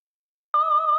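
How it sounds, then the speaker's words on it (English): A single sustained soprano note from the Sound Iron Voice of Rapture sample library, drenched in reverb, enters cleanly after half a second of silence and holds steady and pure. "with a soprano voice kind of thing, which is the beautiful Sound Iron Voice of Rapture library"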